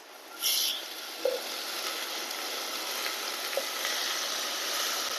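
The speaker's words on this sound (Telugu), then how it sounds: "ఇప్పుడు ఆకుకూర వేసి ఫ్రై చేసేద్దాం" Amaranth greens hit a hot pan and fry with a bright, steady close-up sizzle that swells at the start and then holds evenly, with a couple of light clinks of stirring and no talking.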